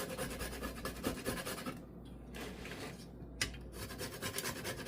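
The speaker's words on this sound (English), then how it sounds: "because it's not a whole one, I'm just gonna grate in. If you have ground nutmeg, you can do that." A piece of nutmeg is rasped over a grater into a croissant French toast breakfast casserole, giving close, dry, rhythmic scraping strokes with a brief pause in the middle.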